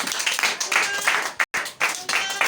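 A church congregation applauds the Lord together, dense clapping and cheering close by with a brief pause, mixed with voices calling out.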